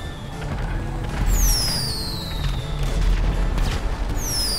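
Rockets and fireworks explode during a GTA 5 Halloween car meet, with whistling launches and booming blasts over a steady roar of game noise.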